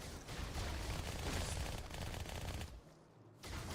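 Rapid SMG fire in Halo 2, loud dense bursts of automatic shots with a brief pause near the end before firing resumes.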